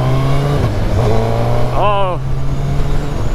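A Suzuki Hayabusa motorcycle pulls hard under steady engine drone, with a quick shifter gear change cutting in briefly and the revs sweeping up again; a rider exclaims over the engine noise.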